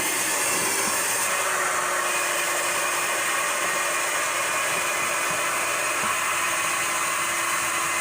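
A repaired Craftsman vacuum cleaner runs steadily with strong airflow, a loud, constant broadband whine and rush of air that holds unchanged throughout with no speech.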